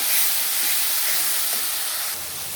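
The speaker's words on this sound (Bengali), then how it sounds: "আদা রসুন কাঁচা লঙ্কা টমেটো পেঁয়াজ বেটে রাখা মশলাটা দিয়ে ভালো করে কষিয়ে নেব" A ground paste of ginger, garlic, green chilli, tomato and onion sautés in a pan with a close, steady hissing sizzle that thins slightly near the end.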